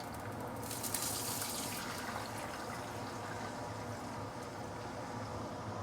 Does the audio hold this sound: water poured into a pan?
yes